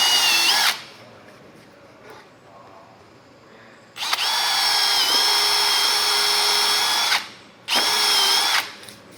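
Power drill countersinking holes in a garage, three loud sustained whining bursts, the longest about three seconds, separated by quieter gaps with faint background voices.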